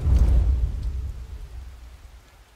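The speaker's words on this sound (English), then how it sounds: "what could possibly go wrong on a stormy night like this?" Rain and rolling thunder on a stormy night in Mafia: Definitive Edition: a heavy low rumble swells at the start, then fades over a steady wash of rain, with no talking.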